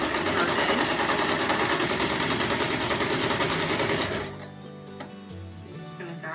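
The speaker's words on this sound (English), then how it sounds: "you're sewing a circle here, like a curved edge." A sewing machine runs steadily while stitching the curved edge of a fabric car seat poncho, a loud continuous rapid whir for about four seconds, then stopping, followed by faint handling clicks.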